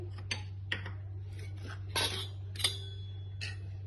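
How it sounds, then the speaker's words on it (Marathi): A bowl is set out for a veggie salad, with a few light clinks and scrapes of dishware on a counter at close range, alone over a low background hum. "आता मी एक बाउल घेत आहे"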